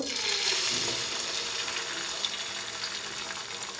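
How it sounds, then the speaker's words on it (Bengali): An egg fries in hot oil in a pan, giving a loud, steady, close sizzle that fills the whole stretch, with small crackles and pops and no talking. "এখন তেলটা আমার গরম হয়ে গেছে এখানে আমি ডিমটা দিয়ে দিব"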